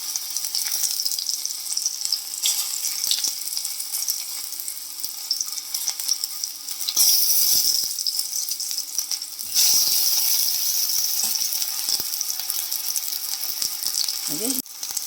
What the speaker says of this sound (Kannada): 2 ಟೇಬಲ್ ಸ್ಪೂನು ಆಯಿಲು, ಎಣ್ಣೆ ಕಾದ್ಮೇಲೆ ಒಂದು ಟೊಮೆಟೊನ ಇಟ್ಟಿದ್ದೀನಿ.